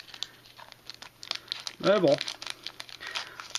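Transformers Dark of the Moon trading card pack wrapper being torn open, a short crinkling, rustling burst amid light handling noises, with a voice speaking briefly near the middle.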